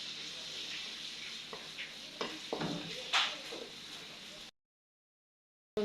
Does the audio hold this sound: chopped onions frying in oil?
yes